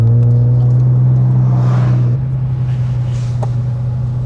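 A Holden Maloo ute engine idles with a steady low rumble and a brief rev rising partway through, close and loud, settling back to a lower hum.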